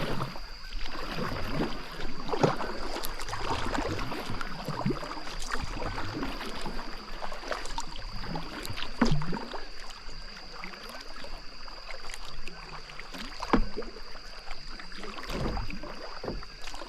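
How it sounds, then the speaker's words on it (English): Kayak paddle strokes dip into a river during a solo camping trip, with continuous close splashing and water swirl over a steady wind-like hiss, no voices. "I'm losing light. I'm gonna keep paddling."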